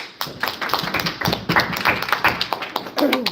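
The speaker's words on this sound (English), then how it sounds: "All right, round of applause." Classroom audience applause from a student group, scattered uneven clapping from a modest crowd, fairly close, with a brief voice near the end.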